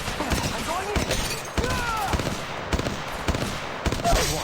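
Rapid gunfire in the mobile battle-royale game Apex Legends Mobile, repeated bursts and single shots cracking throughout, with someone talking over the shooting.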